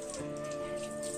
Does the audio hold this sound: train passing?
no